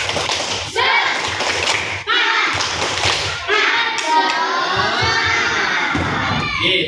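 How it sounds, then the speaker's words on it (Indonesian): Classroom children chant loudly in unison with bursts of rhythmic clapping, an energetic spirit chant broken into several phrases with brief pauses between them. "Tepuk semangat."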